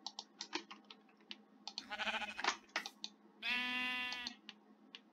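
Minecraft sheep bleating in the video game, a couple of short wavering bleats, one longer and clearly tonal, mixed with quick keyboard and mouse clicks throughout, fairly quiet and with no talking.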